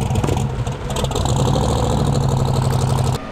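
Salty's 1800hp twin turbo 427ci LS engine runs loud and close, a steady rough throbbing idle with a brief rev at the start, cutting off abruptly at the end.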